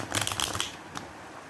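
Tarot cards shuffled by hand, a quick burst of crisp riffling flutters close to the microphone, then a single short snap and quiet.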